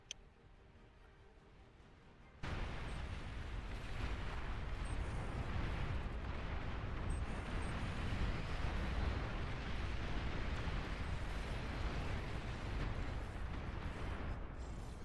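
A commander unit explodes in the real-time strategy game Beyond All Reason, opening with a sudden loud blast that settles into a long, dense, rumbling roar lasting many seconds.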